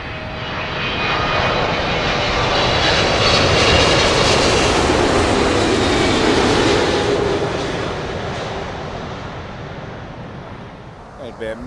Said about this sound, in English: That'd be American Airlines, and it's the 777-200 coming in from Charlotte.